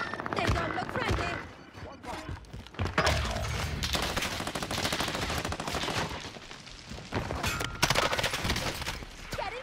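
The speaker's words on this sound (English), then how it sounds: "Why am I getting shot at?" Gunfire rattles through a Call of Duty Warzone match on Rebirth Island, with dense bursts of rapid shots and impacts coming close and loud almost without pause, mixed with game effects and occasional voices.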